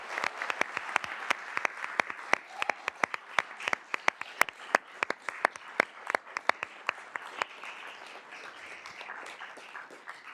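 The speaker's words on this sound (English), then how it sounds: "let's give another round of applause to all those that" Applause at a Board of Supervisors meeting, sparse, distinct hand claps from a small group, fairly close and loud, continuing steadily throughout without talk.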